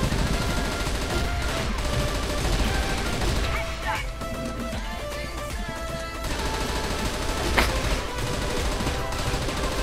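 Kriss submachine gun fire in the online shooter CF West comes as dense, continuous bursts mixed with game effects and background sound throughout.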